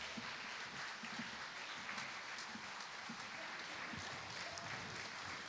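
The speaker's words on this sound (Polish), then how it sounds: "Duże brawa." Audience applauds a band as it takes the stage at a concert, steady dense clapping throughout with a faint voice or two in the crowd.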